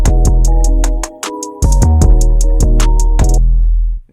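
A loud 808 bass beat plays with its root note shifting between pitches, deep sustained booms under crisp hi-hat ticks and a steady looping melody, ending abruptly after about four seconds.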